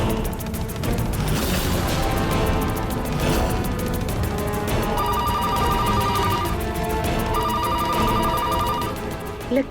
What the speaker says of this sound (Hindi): लगता है पलक का फोन है।